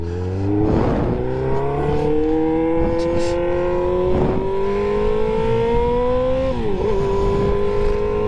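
A Suzuki GSX-R 600 sport bike eases out onto gravel, its engine droning loud and close as the revs climb steadily and then briefly drop before continuing.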